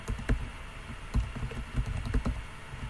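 Computer keyboard typing a name into a search field, a quick run of light, close key clicks in uneven bursts over a faint room hiss, with no voice.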